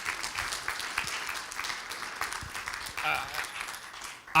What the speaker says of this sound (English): can we get a big round of applause for Trent putting this whole thing together?